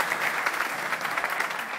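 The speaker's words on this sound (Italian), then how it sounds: "un bel applauso glielo facciamo" Brief, even applause from an evening event crowd in Abano Terme, dense clapping at moderate volume with no voices on top.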